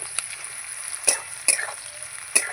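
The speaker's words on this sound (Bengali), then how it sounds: "এই যে আলু কিন্তু আমার খুব ভালো করে ভাজা হয়ে গেছে" Potatoes sizzle steadily in a hot pan while a few sharp utensil scrapes and clinks cut in at irregular moments.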